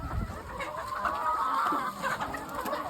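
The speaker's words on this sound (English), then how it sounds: "So we're going to go and catch some chickens" Chickens on a homestead cluck and murmur continuously up close, a busy layered chatter of several birds with no talking.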